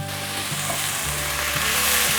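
Carrot, fresh shiitake and wood ear mushrooms stir-frying in a hot pan, a dense steady sizzle with a few soft spatula scrapes.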